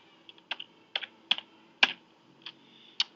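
Crisp, distinct keystrokes on a computer keyboard, about eight separate taps spaced irregularly over a few seconds, close and clear against near silence.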